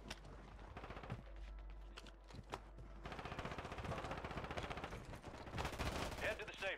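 Dense automatic gunfire from Call of Duty Warzone rattles steadily throughout, with bursts of shots layered over game ambience and a voice partly audible in the mix.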